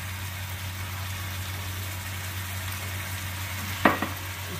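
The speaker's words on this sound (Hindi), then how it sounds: "अब इसको थोड़ी देर अच्छे से भून लेते हैं" Tomato and chili paste frying in a pan for Punjabi rajma masala makes a soft, steady sizzle over a low hum, broken by a brief utensil clink near the end, with no talk.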